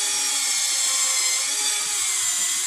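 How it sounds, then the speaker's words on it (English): A Tomodachi handy drill with a 1 mm bit bores into plywood, a continuous high-pitched whine held at even loudness from start to finish, close and alone. "Yes, the Tomodachi handy drill is doing that."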